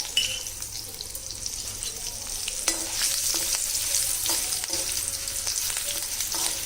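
Green chillies frying in a pan for a sweet tomato chutney, a steady close sizzle throughout with light scraping and stirring clicks scattered over it.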